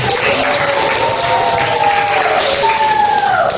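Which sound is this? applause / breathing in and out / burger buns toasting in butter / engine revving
applause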